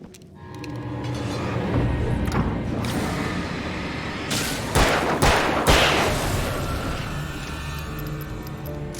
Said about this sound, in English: Shit, that's the flashbang.